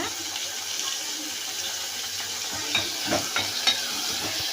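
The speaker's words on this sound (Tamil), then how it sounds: "அதேமாரி தக்காளியும் வந்து டூ மினிட்ஸ் நல்லா வதங்கணும்" Onions and tomatoes sautéing in oil in a pan, a soft continuous sizzle with a few spoon scrapes and taps near the end, close by and without speech.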